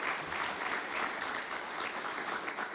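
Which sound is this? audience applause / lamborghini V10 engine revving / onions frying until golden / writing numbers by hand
audience applause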